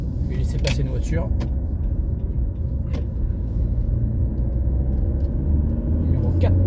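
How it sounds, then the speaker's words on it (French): A car passing on a rally stage road near Morillon–Samoëns during the Rallye du Mont Blanc, a loud steady engine rumble heard from inside a vehicle, with brief talking over it. "Je vais laisser passer une voiture."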